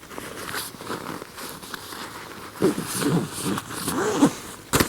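Zipping up an Osprey Atmos AG 65 backpack, with several quick rasping zipper pulls in short bursts among soft fabric rustling, close by.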